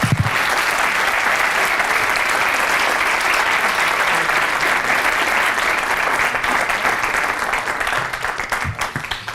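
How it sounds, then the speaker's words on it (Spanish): Sustained audience applause fills a university faculty ceremony hall, a dense steady clapping that stays loud throughout and thins slightly toward the end. "Un aplauso para..."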